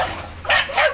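A dog gives two quick barks close by, short and sharp, with no talking.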